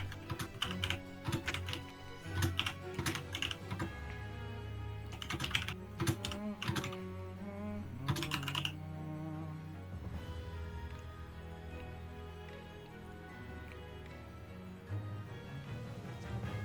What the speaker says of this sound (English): You're typing stuff.